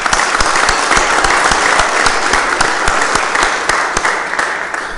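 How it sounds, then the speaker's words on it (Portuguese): A council meeting gives a loud, sustained round of applause saluting the national flag, dense clapping from many people filling the room evenly before tapering slightly at the end. "solicito a todos que saudemos o pavilhão nacional com a salva de palmas"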